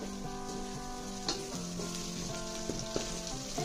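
Food sizzles steadily as it fries in green masala in a pan, a soft continuous crackle broken by a few light clinks and scrapes of stirring, with no voices.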